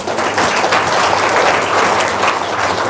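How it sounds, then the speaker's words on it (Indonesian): An audience claps steadily and loudly at a comedy talk show in Indonesia, a dense, continuous wash of hands with no pauses throughout. "Buktiin. Tepuk tangan dong."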